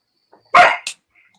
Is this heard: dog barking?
yes